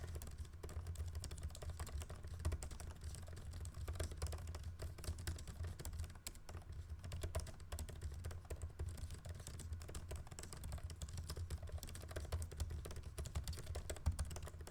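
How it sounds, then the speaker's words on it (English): Quiet, fast typing on a 2021 14-inch MacBook Pro laptop keyboard, a continuous patter of soft key clicks with no voices, close by. "This is a typing test so you can hear how the keyboard sounds."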